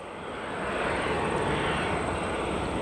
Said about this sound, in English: So our next arrival here on runway 10 center, we have United Airlines flight 2187, an Airbus A319-100.